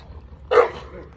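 A single loud, close dog bark cuts in sharply halfway through, standing alone above a quiet background.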